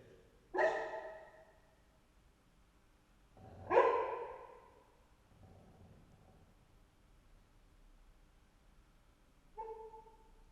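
A dog lets out two sharp barks a few seconds apart, then soft muffled whimpers and a brief final yip while dreaming in its sleep, close by in a quiet room.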